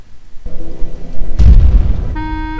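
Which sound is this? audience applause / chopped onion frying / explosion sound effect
explosion sound effect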